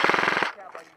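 Airsoft gun fired in a rapid automatic burst during an outdoor airsoft battle, close and loud, stopping abruptly halfway through and leaving quieter ambient rustle.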